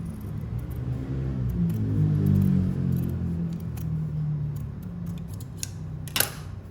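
Sewing scissors give a single sharp snip through thread near the end, a brief click over a steady low background hum.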